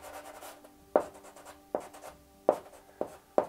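Charcoal scrapes across paper in five distinct firm strokes spaced under a second apart, close and quiet, with light scratchy texture between them.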